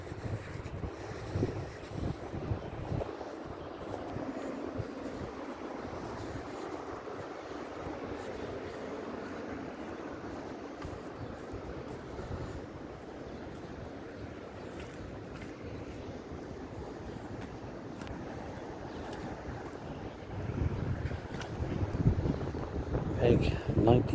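A strong, gusty wind rumbles and buffets steadily beside a swollen river at a fishing peg, with someone speaking over it and the gusts growing heavier toward the end.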